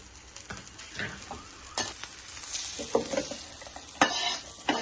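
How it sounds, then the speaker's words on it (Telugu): Green chillies, dried red chillies, asafoetida, mustard seeds and fenugreek frying in oil, a quiet sizzle broken by several sharp stirring scrapes and clinks. "పచ్చిమిరపకాయలు చూడండి ఎట్లా వేగవుతుందో మెత్తగా"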